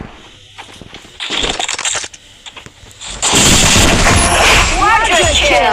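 Uzi fire in the Free Fire video game rattles in quick bursts, first scattered and then a dense sustained volley, loud and close with a voice mixed in.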